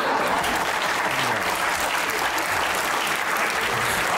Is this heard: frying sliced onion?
no